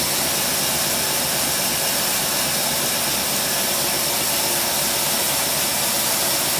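An engine fitted with a Holley race carburetor runs rich with the choke on, giving a loud, steady, hissing roar that holds without a break.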